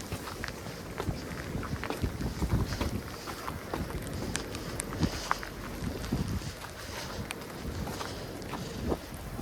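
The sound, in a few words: wind blowing snow during a snowstorm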